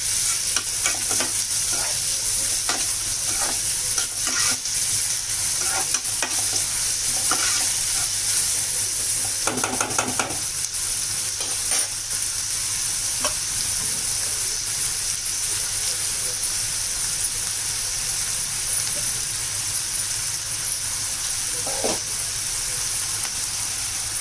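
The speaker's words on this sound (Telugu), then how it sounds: "ఆనియన్స్ మగ్గుతున్నాయి కదా" Onions fry in a pan with a constant, close sizzling hiss, broken by intermittent stirring clicks and scrapes and a brief louder rustle near the middle, steady throughout.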